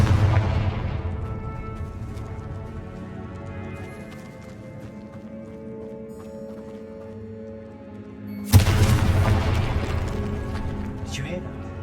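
Confringo blasting spell cast in Hogwarts Legacy at a tomb archway flanked by stacked bones: one sudden, loud blast bursts out over a steady low ambient drone and fades slowly.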